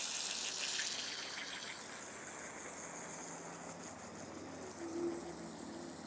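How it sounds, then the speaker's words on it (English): A garden hose blasts a strong jet of water onto kitchen scraps pulled from a hot compost pile, a loud rushing hiss that peaks at the start and continues steadily, heard up close. "if I put it down here and I blast it with water"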